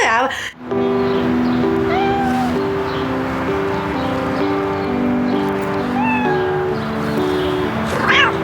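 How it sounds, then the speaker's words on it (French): A hungry stray cat meows repeatedly in short, rising calls, close by, while someone talks softly over a steady background hum. "Mais j'ai plus rien à te donner pour petit chat."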